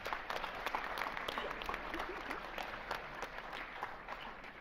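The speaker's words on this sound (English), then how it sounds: "Let's give that a big round of applause." Audience applause at an AP event, a steady wash of many hands clapping throughout, moderately distant and fairly quiet, with no talk over it.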